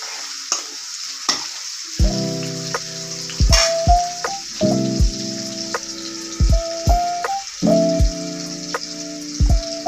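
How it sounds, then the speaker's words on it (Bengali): Onions sizzle steadily in a hot wok for cooking fish fins while a utensil scrapes and clanks against the metal in repeated stirring strokes. "এই তো কড়াইতে পেঁয়াজ দিয়ে দিচ্ছি"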